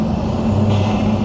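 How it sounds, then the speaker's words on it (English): Turbo and engine noise from a 2025 Lotus Emira Turbo SE heard from inside the car with a window cracked: a loud, steady droning roar with a brief rise, no speech. "the noises of the turbo are absolutely foul"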